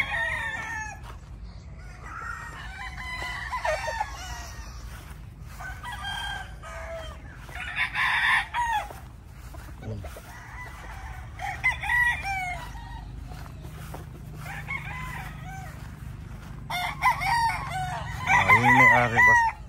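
Roosters on a farm crow repeatedly, several overlapping cock-a-doodle-doo calls from nearby and farther birds, with clucking between them and a faint voice or two in the background.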